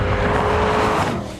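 A 2002 Saleen S7 sports car with a highly tuned engine drives past, a brief, loud roar that swells and then begins to fade.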